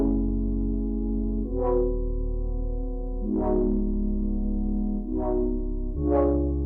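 Doubled piano melody built from Soul Sessions pianos and run through the Glaze plugin with a radiator effect, sustained harmonic chords swelling in four soft, filtered phrases, steady and close with no voices.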